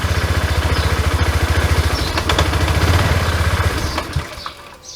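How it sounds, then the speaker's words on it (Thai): A fuel-injected Honda Click 110i scooter with a hard-starting, stalling fault chugs in a fast, even putter that swells as the throttle opens, then sags and fades as the engine dies. "เปิดคันเร่งดูนะครับว่า อาการที่เจอมันเป็นอย่างไรนะครับ"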